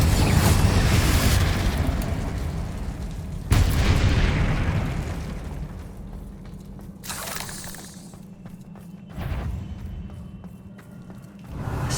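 Confringo spell explosion in the Hogwarts Legacy video game: loud booming blasts open the scene, followed by a sharp burst and a few weaker crackling pops fading into quieter ambience.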